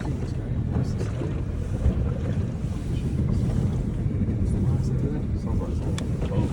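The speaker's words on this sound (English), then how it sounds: "Exhaust underwater blowing bubbles." A Mercedes G-Wagon wades through water with its exhaust submerged, giving a dense, low, churning rumble and bubbling, mixed with heavy wind buffeting on the microphone, steady throughout.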